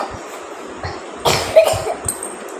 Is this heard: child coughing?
yes